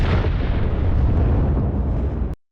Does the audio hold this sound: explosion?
yes